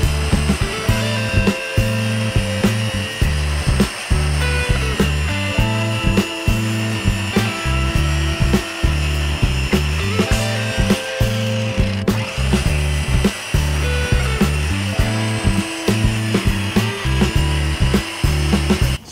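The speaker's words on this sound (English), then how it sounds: "what I need to do now is find the distance between these two points so I can cut the piece of wood that's going to fit in there" A piece of wood is cut freehand at an angle with a loud, close power saw, its motor whining steadily while rhythmic cutting bursts repeat throughout with brief pauses.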